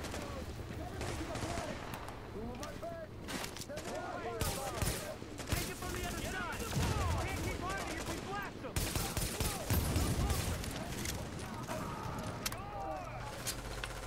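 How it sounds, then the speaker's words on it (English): Dense bursts of gunfire from other players in the online shooter The Division, with rapid automatic volleys and scattered single shots crackling continuously at mid distance for the whole stretch. "Are they just shooting each other?"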